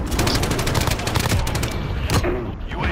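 Dense, continuous gunfire from a Call of Duty: Modern Warfare match with an iron-sighted Russian rifle, loud cracks and booms layered over a constant battle din, with a sharp report standing out near the end.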